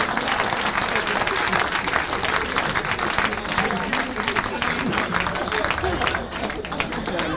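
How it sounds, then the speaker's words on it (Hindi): Loud, dense applause fills the hall at a Hindi poetry gathering, a mushaira and kavi sammelan in Delhi, sustained and even throughout with a murmur of crowd noise mixed in. "तालियां बजाओ।"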